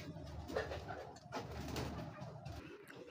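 Pigeons coo steadily in a low, continuous murmur throughout, with several birds close by and no talking over them.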